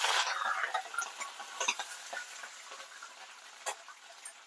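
Green chillies fry in oil with okra and peanuts, making a quiet scattering of crackles and soft pops with brief sharper spits, close by and without talk.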